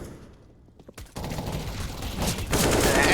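In the CS:GO video game, SMGs and rifles fire in rapid overlapping bursts of gunfire that grow denser and louder toward the end, with no talk over them.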